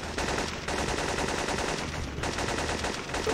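Rapid video game gunfire fired steadily and loudly through the whole stretch, a dense unbroken burst of shots with no pauses.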